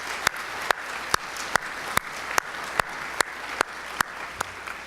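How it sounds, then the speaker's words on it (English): Applause at a university staff forum, with a steady bed of crowd clapping and one nearby pair of hands striking a loud, evenly spaced beat roughly twice a second. "Round of applause for Brett."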